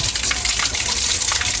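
Water gushing steadily from a hose pipe while people bathe outdoors, a continuous broadband rush that stays loud and close from start to finish with no talk over it.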